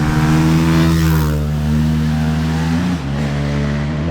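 Motorcycle engine with a freshly rebuilt top end revving hard while riding, a loud close drone that rises in pitch, then briefly dips and climbs again near the end, with no talking.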